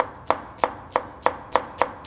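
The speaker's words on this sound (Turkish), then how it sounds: "Şöyle ince ince soğanımı doğradım" A knife chops onion finely on a cutting board in Anatolian home cooking, seven evenly spaced crisp blade strikes about every third of a second, close and clear with no talking.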